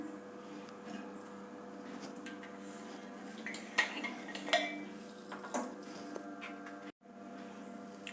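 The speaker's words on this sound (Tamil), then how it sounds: "இப்போ இது வந்து ஹாட் வாட்டர் ஊற்றி நம்ம வந்து மிக்ஸ் பண்ணிக்கிடுவோம்" Rice flour is mixed with hot water into akki roti dough, a close run of spoon and bowl clatter with scraping and a few sharper metallic knocks, steady throughout with no talk.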